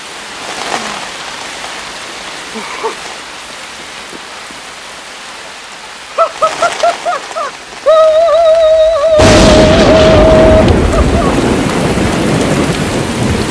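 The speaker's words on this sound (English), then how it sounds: "then it just starts raining on him" A sudden heavy downpour with thunder on a sandy beach in a film scene: quiet ambience and a few tonal bursts give way to a loud, continuous roar of rain that persists to the end.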